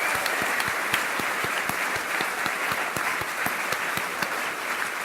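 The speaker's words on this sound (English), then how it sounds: "I just want to give a round of applause to the members who have put this together" An audience applauds the members who organized the event, with steady, even clapping throughout and a few sharper nearby claps standing out.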